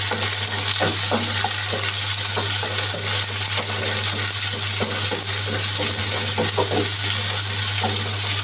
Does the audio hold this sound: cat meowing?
no